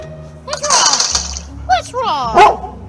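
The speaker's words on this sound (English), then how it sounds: "Eddie, why are you barking?" A pet dog barks a few times in short bursts, close and loud, mixed with someone talking over it in a dim evening setting.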